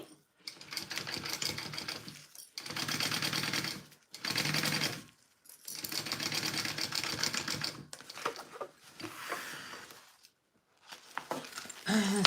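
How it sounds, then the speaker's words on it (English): Sewing machine stitching a Riverwalk Sling bag, running in several loud, close bursts of rapid mechanical whirring separated by short pauses. "I'm going to go ahead and sew this side down"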